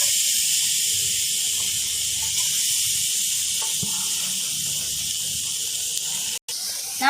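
Grated coconut roasting in a hot pan for garlic chammanthi gives a steady, bright hiss that runs unbroken throughout, with a faint knock or two near the end and no talking.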